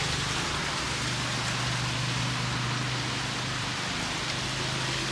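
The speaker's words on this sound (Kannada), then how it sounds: "ಆಲ್ರೆಡಿ ಮಳೆ ಬರೋಕ್ಕೆ ಸ್ಟಾರ್ಟ್ ಆಗಿದೆ." Rain begins falling outside a house balcony. It makes a steady, dense hiss throughout, with a faint low hum underneath and no voices.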